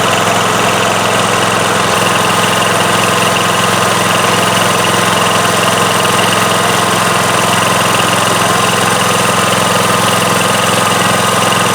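Coleman CT200U-EX mini bike engine idling just after start-up with the choke off, a loud steady small-engine chug close by, running without letup.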